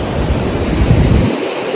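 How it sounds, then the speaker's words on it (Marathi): Sea waves wash onto an empty beach on the Konkan coast near Purnagad, a loud, continuous hiss of surf with a rumbling low swell that briefly eases near the end. "समुद्र"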